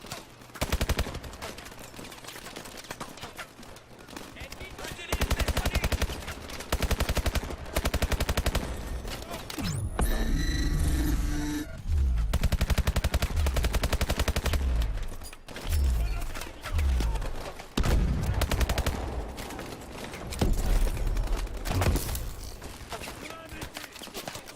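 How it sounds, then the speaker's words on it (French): Dense, sustained gunfire from the Call of Duty Advanced Warfare video game, rapid automatic bursts and overlapping shots filling the whole stretch, with brief lulls and loud explosive thumps in between. "il y a de l'action là, ça se tire dans tous les sens"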